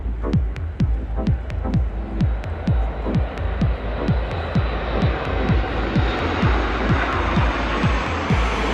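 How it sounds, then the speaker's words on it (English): Etihad Boeing 787 airliner and Al Fursan aerobatic jets flying over the 2023 Abu Dhabi Grand Prix: a loud, rolling engine roar with a rhythmic throbbing pulse that sweeps downward as the aircraft pass overhead. "An incredible Etihad 787 and Al Fursan flyover at the 2023 Abu Dhabi"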